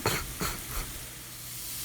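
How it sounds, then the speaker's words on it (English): Turkey and spinach sizzling in pans while cooking empanada filling, a soft steady hiss with a few brief louder bursts near the start, then a quieter continuous fry. "Sizzle, sizzle, sizzle."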